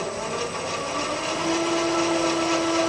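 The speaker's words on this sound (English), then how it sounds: "The next thing to do is bring the rotor up to speed again" A rotor on a single-plane balancing rig spins back up to speed with a continuous mechanical whir, and a steady tonal whine emerges and holds partway through.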